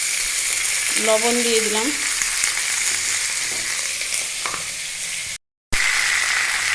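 Vegetables sizzle steadily in hot oil tempered with cumin and two dried red chillies, a continuous bright frying hiss with brief stir noises, while a voice speaks briefly over it near the start.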